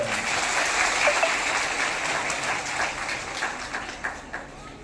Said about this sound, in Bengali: তো মুখ্যমন্ত্রীর জন্য একটা জুড়ে হাততালি দিন সবাই